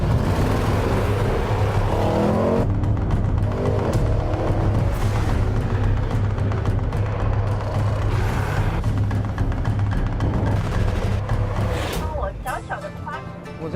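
A Range Rover Sport climbing a mountain road under hard acceleration, its engine drone loud and steady with surging bursts as it powers through bends, while people talk over it inside the cabin.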